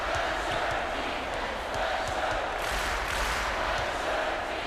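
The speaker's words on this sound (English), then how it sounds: "Listen to the crowd, Vern." A basketball arena crowd at a college game between Washington and Gonzaga roars in a dense, continuous wall of cheering, with sneaker squeaks and ball bounces faintly underneath.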